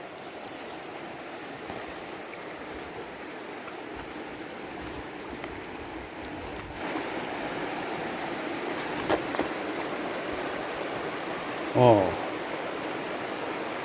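A river rushes steadily along a riverside trekking route, a constant broad watery hiss close by, with a brief voice and a few faint knocks over the flow.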